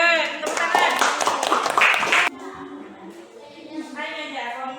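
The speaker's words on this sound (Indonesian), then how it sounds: "Tepuk tangan." Students in a classroom clap in a brief burst of rhythmic applause, then it stops and a teacher's voice continues speaking nearby.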